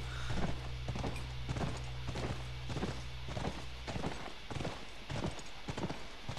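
Horse hooves clip-clop in a steady walking rhythm on the ground near a ranch in The Last of Us, with faint ambient hum underneath and no speech.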